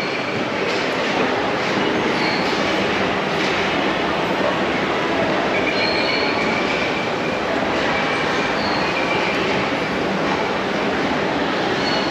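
Train noise in a station, with a steady loud rumble of rail cars and faint wheel squeals over twelve seconds, no talk; on a trip through Mallorca toward Manacor.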